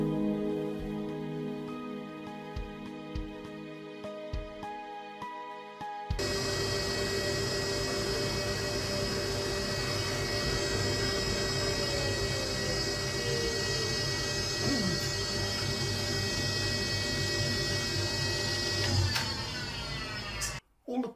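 A thickness planer feeds a board of spalted beech with some dry rot, switching on after a low hum into a steady, loud whirring roar that runs evenly for about fifteen seconds before winding down.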